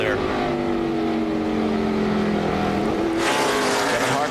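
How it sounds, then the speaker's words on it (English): A NASCAR race car at the 2003 Subway 500 held on the pit road speed limiter, a steady droning engine note over commentary, with a louder burst of engine noise near the end. "I hear him on the road limiter there."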